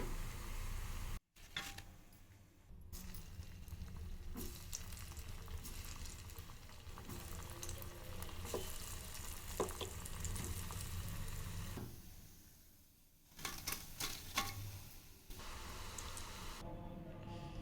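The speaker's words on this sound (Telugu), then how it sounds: "చూడండి ఇలా గోల్డ్ కలర్లోకి వచ్చే వరకు వేపుకుందామండి" Taro root pakodi deep frying in oil until golden, a soft bubbling sizzle with a brief dropout near the start, then occasional clicks and spatter, fairly faint with no speech.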